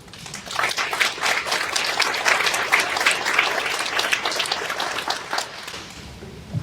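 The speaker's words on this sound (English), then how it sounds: "I would like a great applause for those warriors or women here who work under these conditions." An audience at a gathering honouring farm workers bursts into loud, dense applause that swells quickly, holds steady for several seconds, then thins out toward the end.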